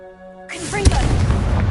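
A Confringo blasting spell fires in Hogwarts Legacy: a sudden burst of noise gives way to a single sharp, heavy boom, then a dense, rumbling crackle of debris that carries on loudly to the end.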